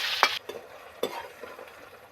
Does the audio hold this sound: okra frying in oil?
yes